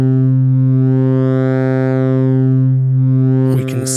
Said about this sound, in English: we can see that the distortion is causing a timbre change as we change the volume